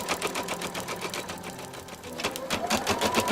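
An embroidery machine stitches a fill stitch over gold mylar with a fast, steady mechanical chatter of needle strikes that continues evenly, while a person talks over it.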